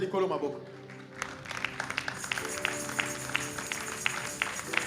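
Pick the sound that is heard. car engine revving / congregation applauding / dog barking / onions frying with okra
congregation applauding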